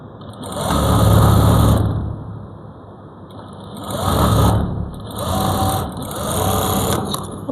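A sewing machine stitches salwar pant fabric in three loud, steady bursts of running motor whir, with short pauses between runs and no talking.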